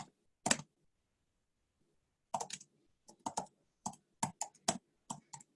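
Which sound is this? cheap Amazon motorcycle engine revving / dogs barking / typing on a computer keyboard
typing on a computer keyboard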